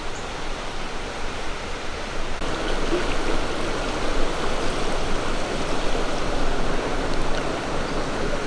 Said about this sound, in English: the crevice or crack in the mountain where the water's coming out from the other side of the mountain